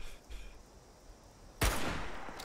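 A single sharp gunshot from the video game Fallout 76 cracks out suddenly after a quiet stretch, followed by a brief fading rumble.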